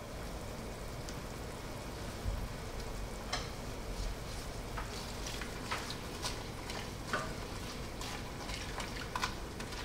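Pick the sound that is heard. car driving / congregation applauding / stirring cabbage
stirring cabbage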